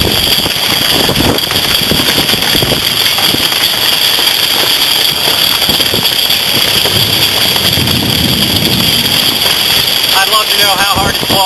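Heavy rain pelts down in a Chesapeake Bay thunderstorm, a loud, dense, continuous roar mixed with gusty wind buffeting close to the microphone, with a voice briefly heard near the end.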